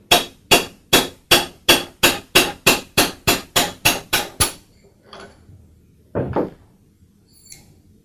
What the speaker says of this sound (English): And now I can tap the spindle free from the bearing.